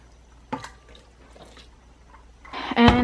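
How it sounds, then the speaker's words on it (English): A cup of water poured into cake batter in a home kitchen with a KitchenAid mixer, a short splashy pour rising near the end after some quiet handling clicks. "And then 1 cup of water."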